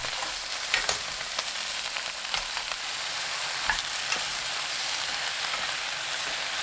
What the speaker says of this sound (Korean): 배추 넣고 센 불로 켠 뒤 3분 볶아주세요.